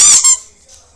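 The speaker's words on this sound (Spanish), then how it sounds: "suena así porque es un peluche" A single short, bright squeak comes from a plush toy, loud and close, then fades quickly.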